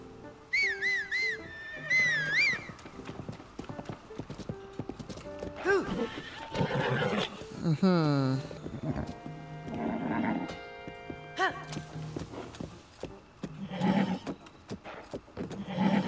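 Horse hooves clip-clop and a horse whinnies in Zelda: Tears of the Kingdom, mixed with whistling tones and game music, while someone talks over the top at moderate volume.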